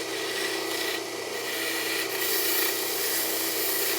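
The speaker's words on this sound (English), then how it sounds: "finally I'm going to take a little sanding block and" Continuous raspy rubbing of a sanding block on a spa hot tub pump part, steady and close, with no pauses.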